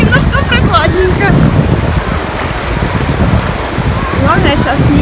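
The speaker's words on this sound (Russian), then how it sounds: "меня просто волнами обмывает" Sea waves washing and swirling around a person wading through shallow, chilly water at the beach, a steady broadband surf wash with wind noise, while someone talks over it and bird-like chirps flicker through.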